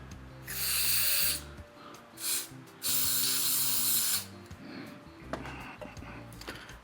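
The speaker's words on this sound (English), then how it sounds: "I just take some contact cleaner and just blow it all out" Contact cleaner blasted into a Suzuki LT80 motorcycle starter motor: three loud hissing spray bursts, the middle one short, over a low tonal mechanical hum, then a quieter stretch of faint clicks and handling noise, with no talking.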